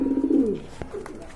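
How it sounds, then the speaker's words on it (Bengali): A pair of domestic pigeons gives a single soft, close coo that falls away, followed by faint rustling. "খুবই সুন্দর এক জোড়া কবুতর"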